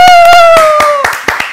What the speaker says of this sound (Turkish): Kendini alkışla.